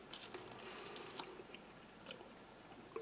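Someone chews a coffee-flavoured, halva-like dessert from a French army combat ration, its sugar grains crunching. Faint, close mouth sounds come as soft crunches and small clicks spread irregularly, with no talking.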